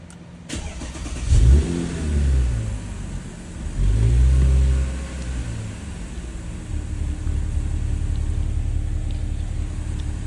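An Audi B8 S4 engine with a single mass flywheel cranks and catches, revving up with two deep surges, then settling into a steady, close idle rumble.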